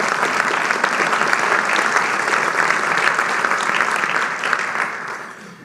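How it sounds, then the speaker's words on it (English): An audience at a business awards luncheon applauds steadily, a dense patter of clapping holding for several seconds before tapering off at the close, with no speech. "Let's give them a big round of applause."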